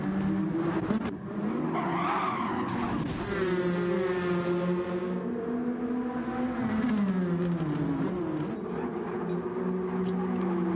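In a sim racing league event on the Eiger Nordwand track, race cars skid and spin out, with sustained tire squeals and wavering engine tones sweeping up and down over several seconds.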